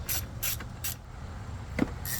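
A ratchet wrench loosens a bracket nut in a Nissan Altima engine bay during a battery replacement, giving several short close clicking bursts in an uneven rhythm and ending with a sharper metallic knock.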